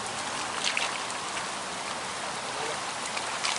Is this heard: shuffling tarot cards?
no